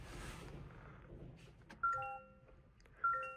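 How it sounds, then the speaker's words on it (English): Soft electronic startup chimes from a 2025 Toyota Camry AWD XSE cabin, two short tonal ding sequences a little over a second apart, set against a low background hum. "the all-new Camry comes to life pretty quickly with a nice subtle Toyota chime back here"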